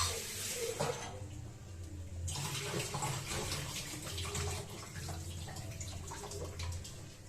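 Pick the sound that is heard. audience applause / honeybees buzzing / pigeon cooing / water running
water running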